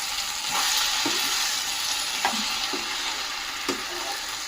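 Ivy gourd and potato fry is stirred with masala in a pan over low heat, a steady close sizzle broken by a few scraping strokes of the spoon, with no voices.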